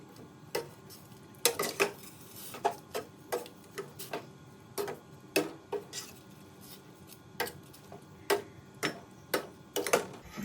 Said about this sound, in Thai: คนให้ผักสุกนะคะ